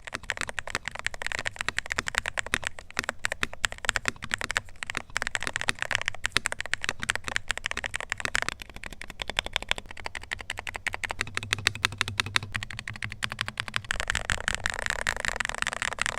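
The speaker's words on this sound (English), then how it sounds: "These really sound surprisingly thocky, and all that thanks to the fully dampened internals of the keyboard." Typing on a Drunkdeer A75 Ultra Hall Effect magnetic mechanical keyboard with fully dampened internals, producing rapid, dense, soft thocky keystrokes in continuous bursts, close and alone with no voices.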